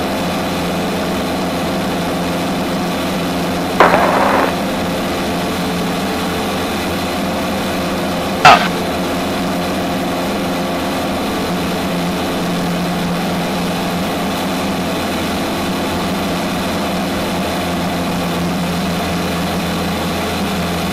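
Steady drone of the engine of a Zenith CH 750 Cruzer light aircraft in cruising flight near Cloverdale, California, a constant loud cabin hum with two brief clicks or knocks partway through.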